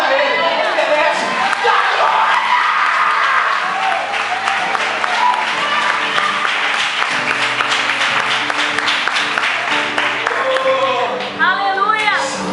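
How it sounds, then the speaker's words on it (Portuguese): A church congregation at a conference applauds and cheers loudly and continuously, with shouts over steady clapping throughout. "Aplauda Ele, Ele merece."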